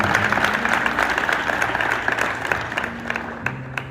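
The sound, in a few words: audience applause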